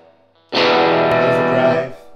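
An electric guitar is played through the distortion channel of a Greenchild Tribus Drive pedal: one loud, sustained chord bursts in after a quiet start, rings evenly with heavy saturated grit, then fades out.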